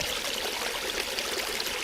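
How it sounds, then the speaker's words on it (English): A stream flows away from a spring on the Isle of Man, a steady, close rushing and trickling of water that fills the whole short stretch without pause. "It's the stream that takes the water away from the spring."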